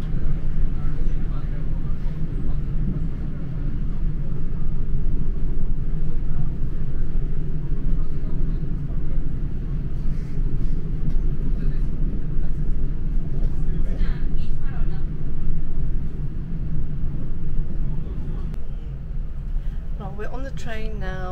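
Steady low rumble inside a moving Trenitalia train bound for Parma, Italy, continuous engine and track noise with faint chimes or squeals near the end.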